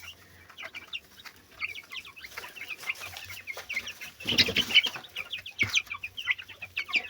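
Several young chickens cluck and chatter close by in a busy, overlapping flock, with a louder burst of squawking midway.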